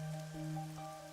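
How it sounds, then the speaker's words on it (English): Steady rain falls over a city in the video game Rain Code, a soft, even wash of patter that stays faint and unbroken with no voices. "A city where it's always raining."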